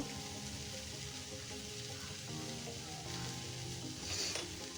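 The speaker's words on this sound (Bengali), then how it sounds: "সব দিয়ে ভালো করে ভাজবো" Papaya frying in a pan with Kashmiri chili powder, chicken masala and salt, giving a steady close sizzle with occasional stirring scrapes throughout.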